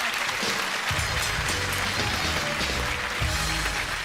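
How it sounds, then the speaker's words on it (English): A television game show studio audience applauds steadily, a dense wash of clapping at moderate level with no voices over it. "Give a nice round of applause to Rita and Nicky."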